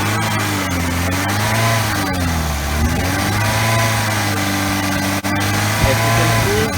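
A car engine revs steadily while the throttle is held open during an oxygen sensor test, its loud continuous drone rising and dipping slightly in pitch throughout, with no talk over it.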